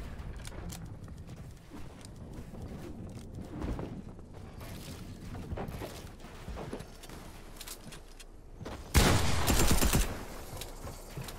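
Gunfire in a Fortnite Arena match, a run of shots with a sharper, louder burst near the end over busy game sounds such as footsteps.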